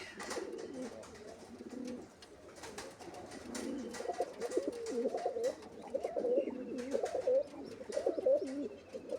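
Pigeons cooing, white and black birds kept for sale: repeated soft, throaty coos from several birds close by, overlapping in an irregular rhythm over a faint background, with no talk.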